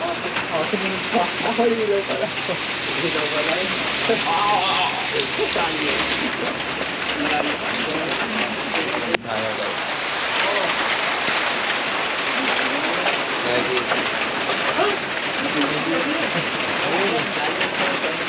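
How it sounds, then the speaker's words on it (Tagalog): Heavy rain falls steadily and loudly in a rural outdoor setting, a dense unbroken wash of noise with a brief sharp click about midway, lasting throughout with no speech over it. "Standby muna tayo dahil mahaba-haba itong ulan na to."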